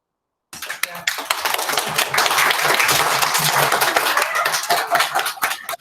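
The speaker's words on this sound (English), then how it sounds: "You need to clap in Willow class so that the camera comes on you, Mrs. Graham." A group of children clapping enthusiastically in a school assembly, bursting in suddenly and sustaining a loud, dense patter with faint voices mixed in.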